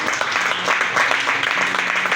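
Church congregation applauding, a dense steady wash of many hands clapping throughout without pause.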